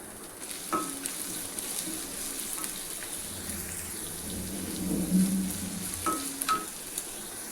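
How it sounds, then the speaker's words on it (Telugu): Chopped carrots, green chilies and beans frying in a pan with a steady, dense sizzle throughout and occasional brief clinks of a utensil. "పచ్చిమిర్చి, బీన్స్ ఇలా 1 by 1 అన్నీ వేసేసుకొని ఒక 2 minutes పాటు వేయించుకోవాలి."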